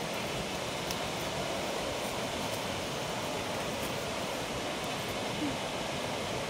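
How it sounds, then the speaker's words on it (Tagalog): A waterfall carrying plenty of water gives off a steady, unbroken roar of rushing flow that holds an even level throughout, with no voices. "Ang ganda ng falls."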